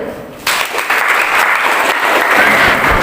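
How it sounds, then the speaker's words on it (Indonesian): A classroom of high school biology students claps for a student group after its presentation. The applause starts abruptly after a brief quiet moment and stays loud and steady, close by. "kita beri aplaus dulu"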